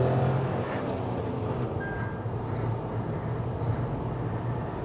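Engine drone of a Tata Punch iTurbo, a 120 PS turbo petrol car, pulling hard in second gear on an empty stretch, heard from inside as a steady, continuous rumble at constant loudness with no talking.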